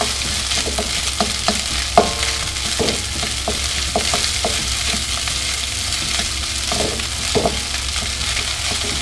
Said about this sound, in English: right now, I'm just waiting for the rice to just dry out a little bit